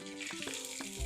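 Mustard seeds, asafoetida and curry leaves hit hot oil for tempering a chutney, giving a brief, faint sizzle with a few crackling pops and a louder hiss at the end.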